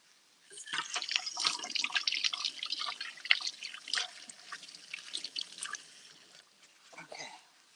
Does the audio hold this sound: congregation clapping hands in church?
no